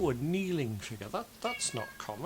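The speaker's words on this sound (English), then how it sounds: "The cat appears to be trying to get in, so if you hear any meows in the background" A cat meows, with a drawn-out wavering call at the start, while a person speaks close by and the meowing overlaps the talk.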